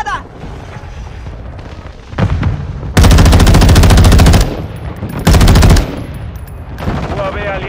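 Call of Duty MW2 gameplay: heavy, sustained automatic gunfire in loud bursts with booming blasts, preceded by shorter clattering shots, close and dominant throughout.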